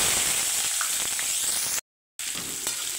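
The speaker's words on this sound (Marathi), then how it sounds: "तेल तापले आपण कढीपत्ता घालू" Curry leaves sizzle loudly in hot oil in a kadhai, a dense steady crackling hiss that cuts out briefly and then resumes just as strongly.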